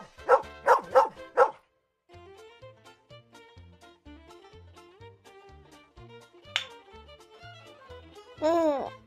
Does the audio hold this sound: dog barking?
yes